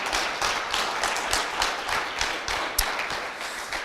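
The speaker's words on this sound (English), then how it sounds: "let's give one more hand of applause for Josh and John." Applause from a security conference audience at the close of a talk, many hands clapping in a steady dense wash with a few sharper claps standing out, sustained and fairly loud throughout.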